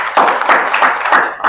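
A classroom group claps together in a short, close burst of rhythmic applause lasting under two seconds.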